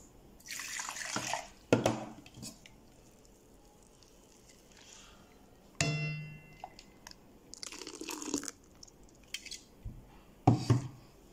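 Water splashes from a tap in several short bursts separated by quiet gaps, close by and fairly soft.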